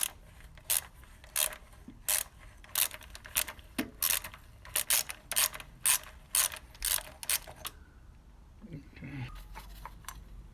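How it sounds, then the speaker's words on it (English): A ratchet wrench with a 13mm socket clicks through bursts of rapid strokes while undoing the thermostat bolts on a 2000 Ford AU, loud and close, repeated many times before falling quiet. "So 13mm, we'll undo the thermostat. There's two bolts."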